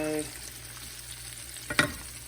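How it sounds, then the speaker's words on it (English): Green tomato slices frying in a pan, a steady low sizzle running throughout with a brief louder clatter near the end as the pieces are stirred or flipped. "They are frying up nice."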